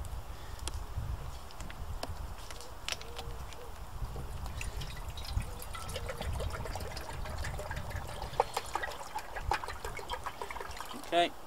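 Water runs into the lower chamber of a stovetop coffee percolator, a continuous trickling and splashing with small clinks of the pot.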